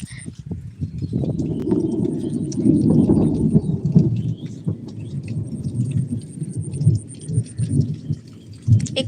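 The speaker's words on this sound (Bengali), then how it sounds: "একটু বৃষ্টিটা কমে গেল" Rain falls steadily over a village roadside in a thunderstorm, a dense close wash that stays fairly loud throughout with low rumbling mixed in.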